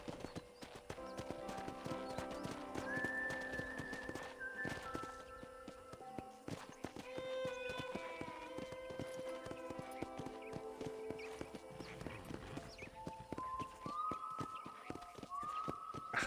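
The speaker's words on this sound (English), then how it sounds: "let's see if you can still ride a horse" A horse ridden around a ranch in Red Dead Redemption on a Steam Deck, with steady clip-clopping hooves throughout and a few tonal whinnies mixed with game music and ambience, moderately loud and continuous.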